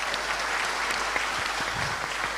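An audience at a summit in Indonesia applauding, a dense continuous wash of many hands clapping at steady loudness throughout, heard from within the hall with no voices standing out.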